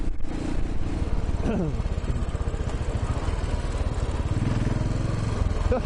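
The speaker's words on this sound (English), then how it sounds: "this bike has got some pretty low down grunt" A new Royal Enfield Himalayan motorcycle engine runs with a steady, throaty low drone, rising briefly in pitch as it revs, heard close throughout while people talk over it.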